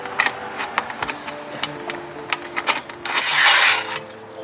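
A ratchet clicks in quick bursts while tightening nuts on a roof top tent mount on a Raptor, close and fairly loud, followed by a longer metallic whir and rub.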